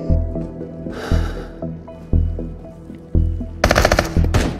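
Gunfire in the video game Into The Radius: loud single shots land about once a second, then a sharp rapid burst near the end, with no talk over it.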